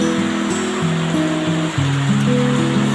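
Very heavy rain from Typhoon Enteng makes a loud, unbroken roaring wash, with a melodic tune playing over it.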